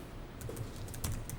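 Soft, quick clicking of a computer keyboard as an entry is typed into Notepad, with a few light keystrokes over a low room hum, quiet and close.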